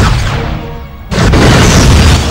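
An enemy scout ship blows up in Star Trek Conquest with a heavy, sudden boom that cuts in partway through and holds as a loud, broad roaring rumble, preceded by a quieter hissing buildup.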